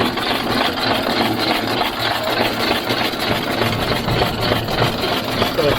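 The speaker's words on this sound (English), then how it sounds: "So it's a single cylinder engine." A single-cylinder antique car engine of about 10 horsepower idles steadily and loudly up close, with an even, rapid chugging beat throughout.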